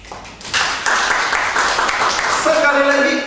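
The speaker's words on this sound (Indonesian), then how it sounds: "Coba tepuk tangan sekali lagi." Group applause from an audience at an Indonesian teachers' workshop session, a broad burst of clapping that fills most of the moment, with a voice speaking over the end.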